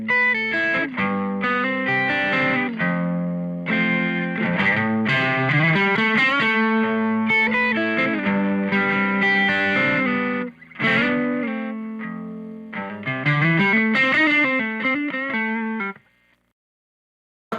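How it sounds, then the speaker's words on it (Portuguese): An electric guitar plays a clean tone through a pedalboard of effects, chorus-like shimmer on sustained chords and melodic runs, loud and alone, with brief pauses and an abrupt stop near the end. "meu som limpo seria alguma coisa tipo isso aqui"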